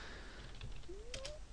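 A few quiet keystrokes on a computer keyboard, faint and close, as a short terminal command is typed in a still room.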